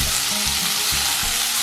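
Amaranth greens sautéing in a hot pan give a steady close sizzle, broken by a few rhythmic stirring scrapes, with no voices.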